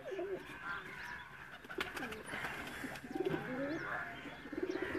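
Pigeons coo repeatedly in a loft at Kot Ishaq, Hafizabad, their soft throaty calls rising and falling close by over a steady murmur of other birds and background hum.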